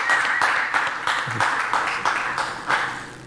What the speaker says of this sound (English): give Michael one more big North Dakota